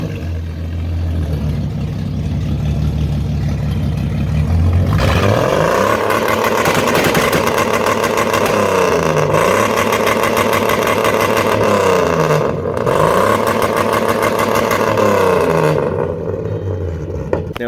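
A Ford Falcon engine fitted with a BR rev limiter idles low, then from about five seconds revs hard in repeated sustained bursts, each cut and dropping back before climbing again, loud and close with no talk.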